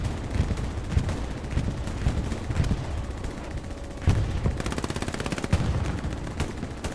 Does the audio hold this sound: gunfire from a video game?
yes